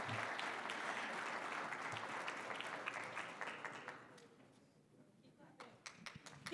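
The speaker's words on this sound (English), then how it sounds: "Keep clapping. Yes, keep clapping." Applause rises at a health policy conference as a speaker comes to the stage. It begins as dense clapping, then thins to a few scattered individual claps, fairly quiet overall with some voices mixed in.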